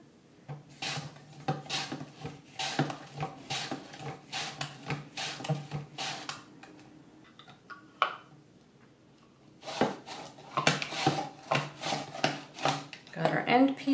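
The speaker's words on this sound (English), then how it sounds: "Now I'll try slicing a tomato." A very ripe, soft tomato drawn repeatedly across a Swissmar Borner V-1001 mandoline, making a series of close, rhythmic wet rasping strokes with short pauses between passes.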